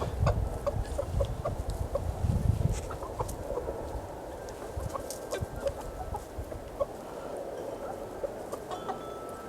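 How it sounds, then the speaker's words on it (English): A small flock of 19-week-old Chantecler chickens, four pullets and one cockerel, clucks softly and repeatedly at close range in a low, continuous murmur of calls, with no talk over it. "I'm now convinced that I have 4 pullets and 1 cockerel, so 4 hens and"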